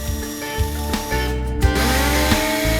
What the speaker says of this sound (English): Once the hole is drilled, use a vacuum and magnet to remove the metal shavings from the inside of your exhaust manifold.